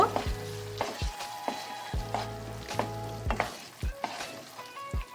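Masala and tomato ketchup stirred in a pan for a vegetarian aloo dum, with a soft sizzle under repeated scraping strokes of a spoon, several distinct knocks against the pan spread through the stretch.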